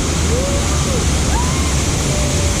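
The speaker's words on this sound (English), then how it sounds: "Oh, waterfall, huh?" Roaring waterfall on a water ride at SeaWorld San Diego, a loud, steady rush of falling water filling the whole moment, with faint voices and squeals rising above it.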